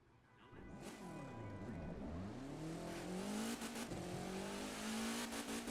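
An Audi RS3 LMS race car driven in The Crew 2 video game, its engine revving up through rising gear pulls with shifts in between and a faint tire squeal, loud and steady from start to finish.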